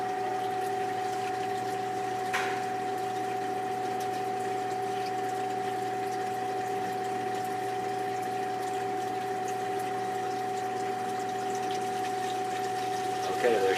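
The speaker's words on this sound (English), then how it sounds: "water starts coming from the overflow into the wet-dry trickle filter" Water from an aquarium overflow pours steadily into a wet-dry trickle filter during a tank water change, a constant close wash of flowing water over a low pump hum, with no talking.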